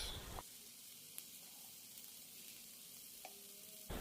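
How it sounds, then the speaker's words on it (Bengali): Quiet, steady sizzling of ginger-garlic paste and ground coriander, turmeric and cumin frying in hot oil, with a couple of faint clicks from stirring. No voices. "আমি মশলাটাকে কিছুক্ষণ ভেজে নিব"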